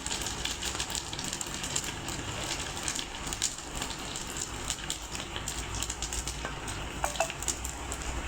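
Rice puri deep-fries in hot oil with a dense, steady crackling sizzle, close and even throughout, with occasional small pops and no talking.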